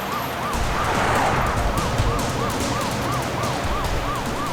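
A police siren wails in a steady rising and falling cycle, loud and continuous over heavy road and engine roar during a car chase.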